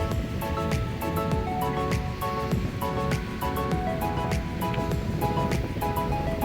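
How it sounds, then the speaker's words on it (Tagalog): Strong surf crashes steadily onto the Manila Bay shore by the dolomite beach during a storm, a dense continuous roar with faint tonal chiming layered over it and no talking. "ang mga lakas ng hampas ng alon. Ayan, lakas ng bagyo."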